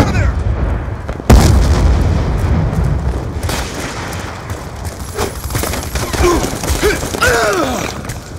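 A grenade blast in Call of Duty Black Ops 2 multiplayer lands as one loud, sudden boom, followed by scattered gunfire and chaotic battle noise.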